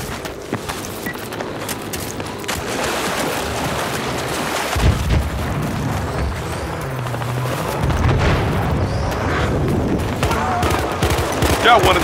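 In a Battlefield Hardline multiplayer match on the Everglades map, a grenade explodes with a deep boom midway through, surrounded by steady bursts of machine-gun fire, distant rumbling and scattered voices.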